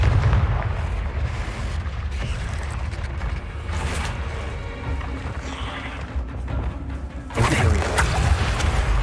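Fire-blast spells (Confringo) in Hogwarts Legacy: loud, rumbling booms that roll on continuously, with a sharper, bigger burst near the end and no talk.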